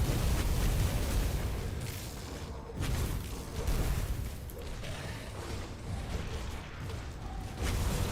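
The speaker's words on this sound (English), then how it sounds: "Okay, lots of explosions." Dense, rumbling explosions and booms in the video game Grim Dawn pile up continuously, loud and low-heavy, with brief whooshing bursts layered through the chaotic battle din.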